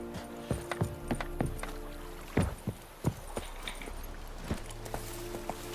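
Roach, the horse in The Witcher 3, gives off steady clip-clop hoofbeats with a few heavier strikes, heard at moderate distance over a sustained in-game musical drone.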